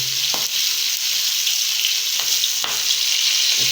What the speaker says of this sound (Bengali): মাছ প্রায় ভাজা শেষ পর্যায়ে